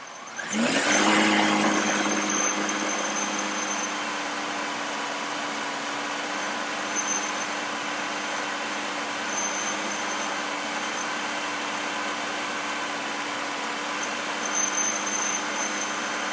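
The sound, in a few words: car engine accelerating during fuel trim test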